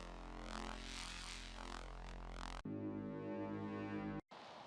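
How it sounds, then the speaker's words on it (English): Ambient sound samples from a bass house sample pack play as a dense, sustained wash with a deep low drone, switching abruptly to a droning tonal pad, then briefly cutting out before a noisy swell. "here are some cool ambient sounds like this"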